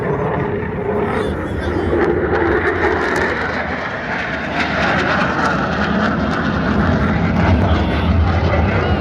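A Eurofighter Typhoon jet makes a fast low pass at about 300 feet over the Blackpool airshow, a loud, sustained roaring rush of engine noise that fills the whole stretch without let-up.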